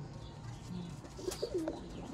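Sialkoti black-faced champion pigeons give a few soft, low coos in the second half, quiet and close against a faint steady background hum.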